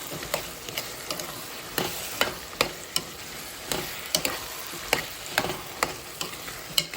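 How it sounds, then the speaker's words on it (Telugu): A spoon stirs a brinjal and egg curry in a hot pan, making regular scraping strokes about twice a second over a steady sizzle of frying, close and clear with no talking. "ఇదిగోండి, కలిపేసుకుందాం."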